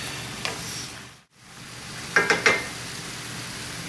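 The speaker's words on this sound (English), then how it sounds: "we're just going to stir these around, get the beans coated with all the good vegetable juices" Romano beans sizzle softly in a pan while a utensil stirs them, with a few quick scraping clatters near the end over a faint, steady frying hiss.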